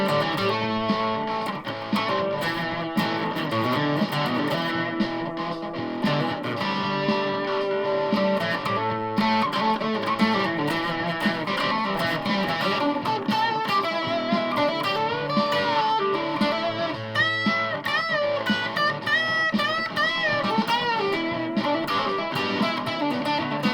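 Distorted electric guitar playing a continuous jam, a dense overdriven tone sustained for the full stretch with shifting chords and lead notes, steady and loud throughout.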